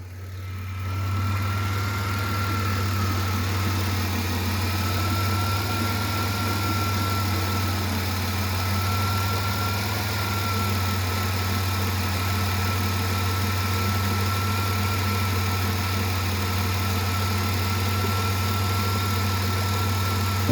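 A 1999 Plymouth Voyager van with a large power steering leak and no forward gears runs its engine while backing up: a continuous, steady low engine drone with a faint whine on top, close and unbroken.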